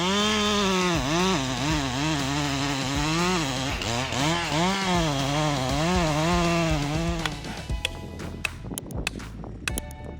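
A chainsaw cuts through a large tree in a small forest, its engine snarling loud and close with pitch rising and falling across the cut for about seven seconds, then cutting off into quieter crackling and knocks.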